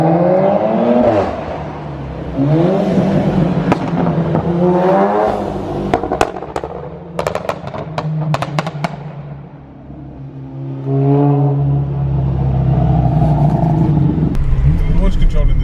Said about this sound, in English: I really don't know if you guys can hear us because this car's so loud